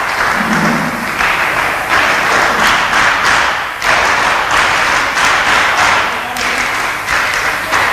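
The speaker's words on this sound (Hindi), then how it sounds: "पाटीदार साहब के लिए जोरदार तालियां" Loud, sustained applause from a large audience at a public forum in Khargone for former minister Balkrishna Patidar, dense clapping with rhythmic surges and thumps that keeps going throughout.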